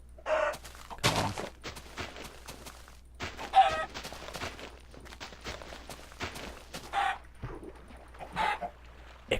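Chickens in the TerraFirmaCraft video game cluck in repeated short, sharp bursts, fairly close and irregular, with brief gaps between calls and no talking over them.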